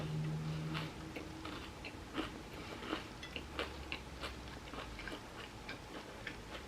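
Close, quiet biting and chewing on a vegan sandwich, with a string of small crunchy, moist clicks repeating irregularly after an initial hum, and no talking.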